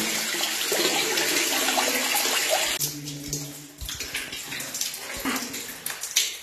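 Water splashes and trickles steadily from a fountain inside a fairy grotto cave in Valais, Switzerland, a continuous close wash of flowing water, and after a few seconds it turns into broken, uneven spattering.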